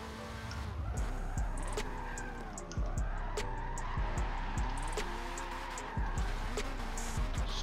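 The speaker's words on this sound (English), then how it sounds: "Stupid fucking rumble strip." Nissan SR20 S15 racing in Forza Motorsport 7: a loud, sustained game engine roar with tyre squeal and rapid rhythmic thumps as the car runs over a rumble strip.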